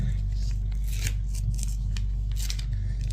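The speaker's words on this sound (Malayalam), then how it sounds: "നമുക്കിതൊന്ന് പൊളിച്ച് നമുക്ക് അൺബോക്സ് ചെയ്ത് നോക്കാം" Golden foil-and-card packaging of a premium Lindt Swiss chocolate bar being torn open by hand, giving close crinkling and ripping bursts over a steady low hum.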